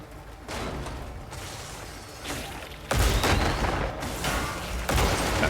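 Gunfire and cannon blasts in the video game Crimson Desert come as a dense, loud barrage of bursts and booms, surging in waves with a heavier salvo midway.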